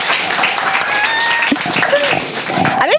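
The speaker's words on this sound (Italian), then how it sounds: "doppio applauso, facciamone un altro" Audience applause at an Italian book presentation, honoring a student letter writer. Steady clapping runs throughout while voices and talking carry over it, with a brief squeak near the end.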